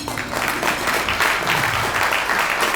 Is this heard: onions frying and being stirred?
no